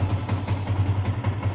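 A Yamaha Sniper 150 motorcycle engine runs with a quick, even low putter after starting on a new battery, heard briefly and moderately loud with no voices.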